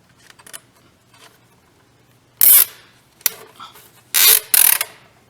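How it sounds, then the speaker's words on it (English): A zip tie is ratcheted tight around a Jaguar XK8 driveshaft during removal, giving several sharp, close zipping bursts with short pauses between them. "what you just heard was me zip tying that drive up just a little bit"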